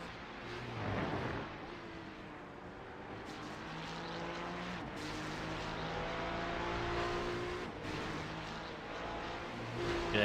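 A Porsche race car in iRacing, driven in a multiclass endurance race at Petit Le Mans, drones past with a steady engine tone that swells and falls over a continuous layer of other cars' engine noise.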